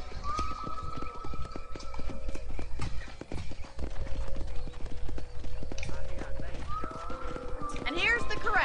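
Hooves clip-clop steadily on hard ground in a ranch corral while horses whinny now and then; a voice murmurs faintly underneath.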